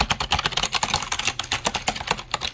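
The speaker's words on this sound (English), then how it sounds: "here's a sound effect of the keyboard" Rapid, uneven clicking of keys on a Logitech MK570 wireless keyboard, close and crisp, continuing steadily with no voices.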